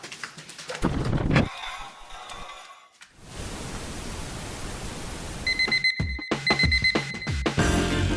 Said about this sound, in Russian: Какое классное утро было бы, если бы не этот ёбаный будильник